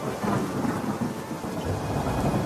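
Heavy monsoon-style rain pours in a dense, continuous roar with low thunder rumbling underneath, steady and loud throughout with no voices.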